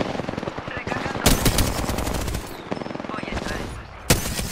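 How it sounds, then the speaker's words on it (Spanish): Automatic and single gunshots crack repeatedly in Apex Legends, dense bursts of close, loud fire with sharp heavy blasts breaking through, amid game voice lines and battle noise. "Estoy recibiendo disparos."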